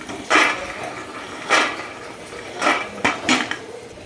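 Roasted peanuts scraped from a pan onto a plate: four clattering bursts of rattling nuts and metal knocks, spaced about a second apart, close and fairly loud, with no speech.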